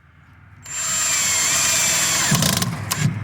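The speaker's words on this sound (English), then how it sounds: "you always want to pre-drill your holes, because otherwise it'll split your wood" A power drill starts up and whirs steadily, drilling pilot holes into wood for a soil screen, with a high whine held for a few seconds and a couple of brief bumps near the end.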